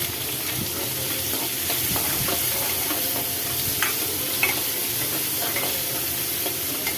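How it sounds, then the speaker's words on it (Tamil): Onions for a tomato kulambu sautéing in a pan, a steady close hiss and crackle with faint stirring scrapes throughout, no voices. "வெங்காயம் கொஞ்சம் வதங்கட்டும்."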